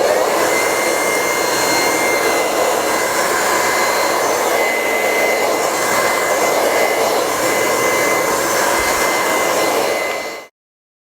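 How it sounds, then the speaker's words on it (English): A hair dryer blows steadily while hair is being blow-dried in a salon, a loud continuous whooshing roar held for about ten seconds before cutting off abruptly. "after we have it blow dried"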